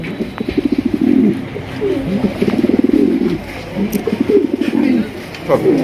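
A fancy racer pigeon of the colored rasgolla type coos close by in a steady series of soft, throaty rolling calls, separated by brief pauses, with no other sound competing.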